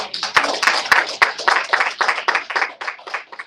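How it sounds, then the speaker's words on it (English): Audience applause from a small group of people, a run of fairly regular claps that stays close and moderately loud for a few seconds. "Can we just get a round of applause for Toy?"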